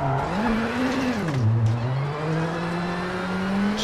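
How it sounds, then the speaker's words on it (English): A rally car in the WRC7 game, racing a Junior WRC stage of Rally France, holds a loud, steady engine drone that dips and rises in pitch as it slides through a handbrake turn, with faint tyre noise underneath. "Just trying to use the handbrake the best I can to get this thing to turn"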